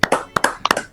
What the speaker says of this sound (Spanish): un aplauso para todos los que compusieron y naturalmente a los premiados